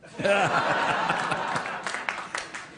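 A short laugh from an audience at a comedy talk show, then scattered clapping and chuckles that quickly thin out, moderately loud and close.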